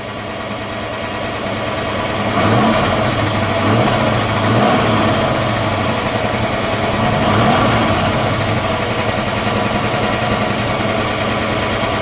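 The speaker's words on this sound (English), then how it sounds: "Give a little rev, would you?" A 1970 Ford Mustang Boss 302 V8 with a 4-speed sits idling, then its engine is revved twice in loud, close bursts that rise and fall before settling back to a steady rumble.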